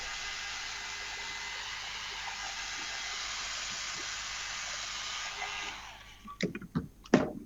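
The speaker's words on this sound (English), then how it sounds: "So again, just with your hairdryer, nice and quick, won't take too long." A hair dryer drying alcohol inks for paper crafts blows steadily for several seconds with a loud, broad whoosh, then switches off, followed by a few light clicks and handling knocks.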